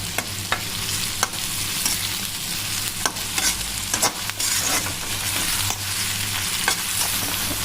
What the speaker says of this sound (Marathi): असं एकजीव होईपर्यंत भाजून घ्यायचा आहे कांदा टोमॅटो